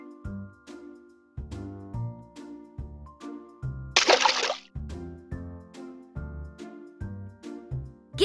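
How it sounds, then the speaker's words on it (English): Cartoon splashes and sloshing water in a pup bubble-bath scene from a Paw Patrol video game, one bright burst standing out among short plinking musical tones. "Give the pup a bubble bath before they go to bed."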